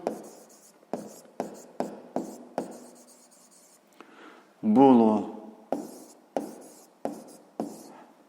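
A pen writes on paper in a regular series of short, crisp scratching strokes. A brief spoken word breaks in partway through.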